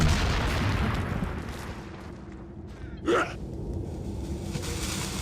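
A single sharp gunshot rings out midway in Resident Evil 4, standing briefly above a steady, noisy game backdrop.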